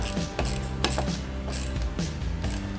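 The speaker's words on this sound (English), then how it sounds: "tighten that 10mm nut" A ratchet wrench tightens a 10mm nut while a front windshield is fitted to a Polaris General side-by-side. Rapid, close mechanical clicking runs continuously, loud and clear, with no talking.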